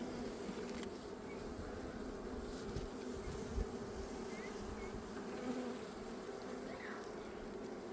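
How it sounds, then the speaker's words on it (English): Bees, including large drones, working blooming cherry trees, a faint continuous outdoor hum from many insects at a distance, no voices. "Look at that big old drone right there."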